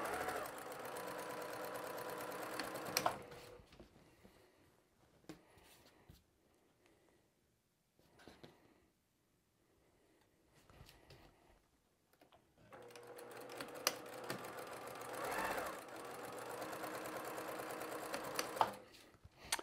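A sewing machine chain-pieces batik fabric blocks, feeding one piece after another. It whirs in two clear bursts, one at the start and one near the end. A long, quieter stretch of fabric handling and soft clicks sits between them.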